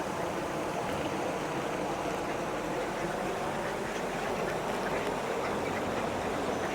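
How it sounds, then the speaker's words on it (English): A dense chorus of mallard ducks in Dawlish quacking continuously over running water, steady and fairly loud throughout, with no talking. "Hungry ducks."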